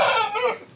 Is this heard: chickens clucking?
yes